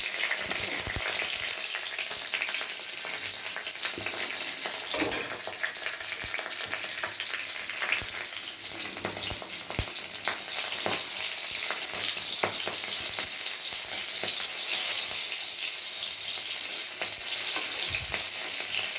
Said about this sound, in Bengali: এর মধ্যে আমি লঙ্কাটা ভেজে নেব